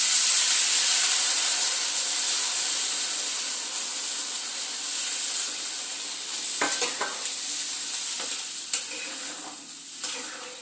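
Water poured into a hot pan of frying fish curry with potato and carrot, setting off a loud, steady sizzle and hiss that gradually eases, with a few clinks from a spoon stirring near the end.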